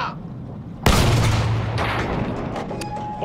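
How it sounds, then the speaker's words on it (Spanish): A sudden loud boom of gunfire bursts out in the World War I shooter game Battlefield 1, then rumbles and decays with scattered smaller shots and noise behind it. "¡Buen disparo, McManus!"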